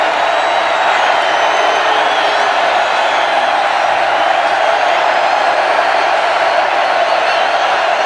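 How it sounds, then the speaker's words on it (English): Crowd noise from a college football stadium during a Missouri at West Virginia game, heard as a dense, continuous roar of cheering and shouting that stays loud and even throughout, with no distinct breaks. "What crowd is left is being heard from."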